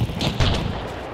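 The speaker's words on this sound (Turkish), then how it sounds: "Bana sıktı." Two close gunshots in the video game Hunt: Showdown, sharp cracks in quick succession with a short booming tail.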